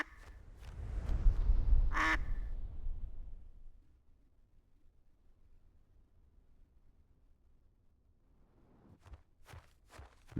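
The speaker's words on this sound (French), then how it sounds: "Le bon canard." A duck gives a few short quacks, faint and sparse near the end, following heavy rustling footsteps up close and a sharp click early on, with quiet in between.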